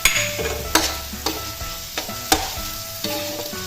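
Ground meat sizzles in a hot pan with garlic and onion, fried for lumpiang gulay. A spatula scrapes and stirs in sharp, regular strokes over a constant frying hiss, and no one speaks.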